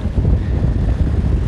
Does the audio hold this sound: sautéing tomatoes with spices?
no